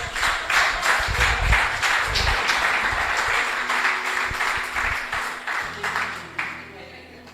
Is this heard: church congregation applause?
yes